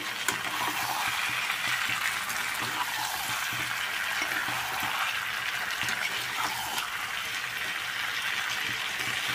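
Pre-fried potatoes going into a pan of cooking meat, a steady, close hiss of frying oil that sizzles evenly throughout with small crackling pops and no talking.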